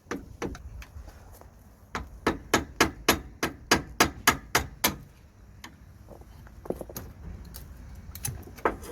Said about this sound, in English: we'll be using a flathead screwdriver and the hammer to just break the clip.